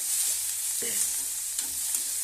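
Onions for onion chutney frying in a pan, a continuous bright sizzle with a few soft scrapes of stirring, close and steady with no talking.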